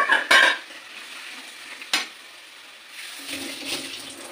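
Hot bowl-rinsing water poured into a frying pan of chicken chaap with cashews, sizzling sharply in a burst, then settling to a soft simmering hiss with faint utensil clinks.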